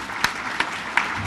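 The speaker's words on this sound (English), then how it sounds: "so give him a round of applause" Brief, sparse clapping from an audience at a community women's event, a few distinct claps standing out at a loose rhythm over a thin patter.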